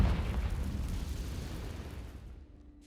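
Confringo spell explosion in Hogwarts Legacy: a single loud, rumbling blast that starts at once and fades away over about three seconds, heard alone without talk.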